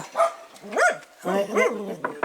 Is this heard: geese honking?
no